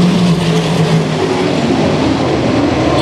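USAC midget race cars roar around a speedway as a steady, dense engine drone, loud and continuous, with several cars blending together and no voices heard.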